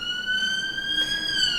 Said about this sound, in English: Number 9, sirens.